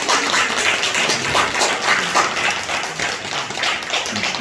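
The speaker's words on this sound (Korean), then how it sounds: "환영의 박수 하겠습니다." Congregation at a Korean Sunday church service giving welcoming applause: dense, continuous clapping from many people, steady and fairly loud throughout, with no speech over it.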